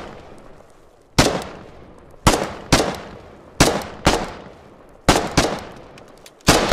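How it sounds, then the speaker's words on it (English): Gunfire in a large Foxhole battle comes as seven sharp, loud cracks, some in quick pairs, spaced through the stretch with a faint rumble between them and no talk. "Shots fired southeast."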